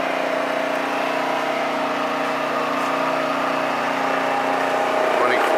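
A Fitzpatrick hammer mill, a direct-coupled unit with a 15 horsepower drive on three-phase power, runs in a loud, steady, smooth hum with a constant whine and no breaks.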